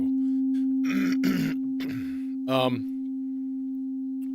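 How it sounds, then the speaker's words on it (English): A Eurorack synthesizer module holds a steady, pure sine tone for the whole stretch, with a few short louder bursts of other sound over the top. "it starts as a sine wave"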